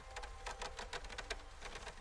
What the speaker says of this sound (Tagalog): Bakit may nagkakaskas ulit?